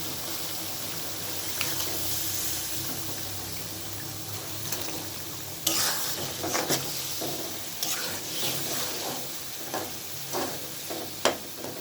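Fish slides into a pan of winter mixed vegetables, oil, salt and spices for a labra curry, giving a steady sizzle and hiss with scattered scraping and utensil clatter, louder bursts in the second half.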